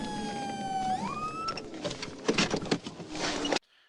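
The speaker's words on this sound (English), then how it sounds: "Okay, lights and sirens activated." A police car siren wails and sweeps upward from lights and sirens being switched on during a pursuit of a shooting suspect vehicle, loud and continuous with rushing road noise before cutting off abruptly.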